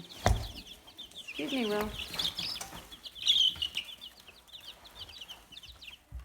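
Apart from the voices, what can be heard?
chicks peeping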